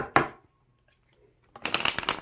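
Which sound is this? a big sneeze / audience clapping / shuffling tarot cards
shuffling tarot cards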